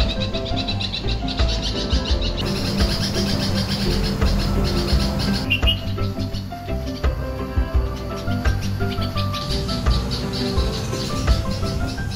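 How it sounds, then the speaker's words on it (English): At a balcony nest, parent birds chirp and nestlings cheep in repeated high, sharp calls. The calls sit over a dense, steady background with some rhythmic layered sound, and no one speaks. "The entire day is rife with the sounds of chirping parents and cheeping babies."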